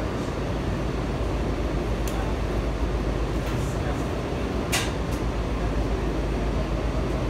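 An automated CAF 5000 series train rides with a steady, loud rumble and hum throughout, with a few short squeaks and clicks over the constant running noise.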